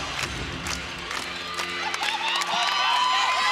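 A crowd at a college gymnastics meet cheers and claps along before a gymnast's final tumbling pass. Sharp, regular claps open the clip, then whoops and shouts build and grow louder toward the end.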